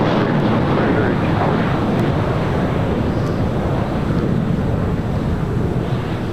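Southwest Airlines jet, flight 818, taking off from runway 25 right bound for Boston: a loud, steady broadband engine roar with wind buffeting the microphone, constant throughout.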